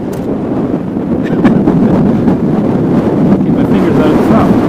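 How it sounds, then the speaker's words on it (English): Strong wind buffets an outdoor microphone at a model airplane flight, a loud continuous roar of rumbling gusts that fills the whole clip. "That's just the wind blowing the prop around."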